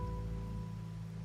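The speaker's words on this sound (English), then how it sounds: "The rain's back." Steady rain pours in the video game Wuthering Waves, a dense even hiss of falling water with a low rumbling bed and a faint held tone fading beneath it, with no voices.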